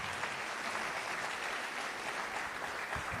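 Sustained audience applause fills a memorial celebration hall, dense and steady clapping from a large crowd with no break.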